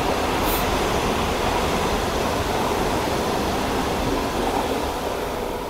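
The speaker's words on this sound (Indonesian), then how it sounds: "Dan kereta sekarang jalan." A loud, continuous roar of rumbling rail noise fills a station as a train departs, steady and unbroken, rolling past up close.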